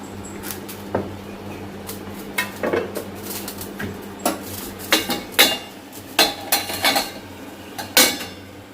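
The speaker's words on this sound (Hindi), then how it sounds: "तब तक मैं काट लूँगी बैगन का, छोटे छोटे काटूँगी" Knife tapping on a cutting board as eggplant is cut into small thin pieces in a home kitchen, irregular sharp chops and clinks up close with no talking.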